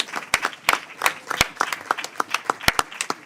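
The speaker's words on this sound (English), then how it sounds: "I would just ask you to applaud our two members" Audience applause in a House Appropriations Committee hearing room, a modest group clapping in quick, uneven claps with some sharp individual hits, fairly close and steady for a few seconds.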